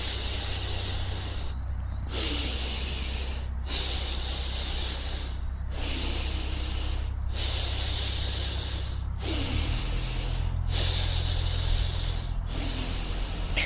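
Slow, steady breathing during a beginner yoga session, with long inhales and exhales alternating in a regular rhythm over a low background hum, close and fairly quiet, with no talking.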